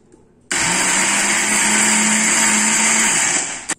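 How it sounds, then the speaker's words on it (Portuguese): A kitchen blender crushes biscuits into crumbs, starting abruptly and running as one loud, steady whirring burst for about three seconds before cutting off. "vou batendo aos poucos pra ajudar o liquidificador a bater"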